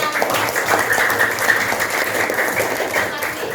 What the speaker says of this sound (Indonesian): Oke, tepuk tangan untuk kelas 6